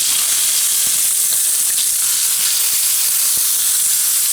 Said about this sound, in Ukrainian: Рибка смажиться близько 5 хвилин